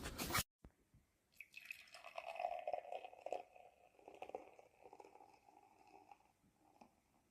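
Ale poured into a glass, starting with a short burst, then a steady gurgling, bubbling fill that rises in pitch and slowly fades, heard close and alone.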